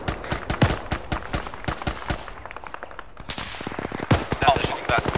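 Gunfire exchange in Arma 3, rapid bursts of automatic rifle shots crackling in quick rhythmic volleys, some close and loud, others more distant, with a brief lull before heavier firing resumes.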